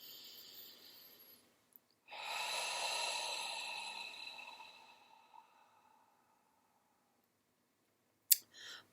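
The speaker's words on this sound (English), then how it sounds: "Take a deep breath here and now." A single long, deep breath, a broad airy hiss that swells and slowly fades over several seconds, heard alone and close in a quiet space, with a brief click near the end.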